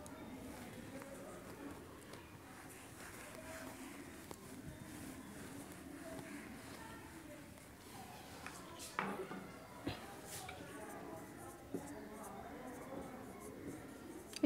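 Pen or pencil writing by hand, the word Chittagong Board spelled out in Bengali during a lesson, a soft continuous scratching with a few sharper taps, faint and close, under low room noise.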